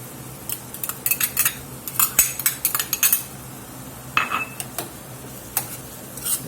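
Onions go into browned ground beef in a pan, with a metal utensil scraping and clinking against the pan in irregular bursts, louder clusters of clatter and stirring separated by quieter stretches.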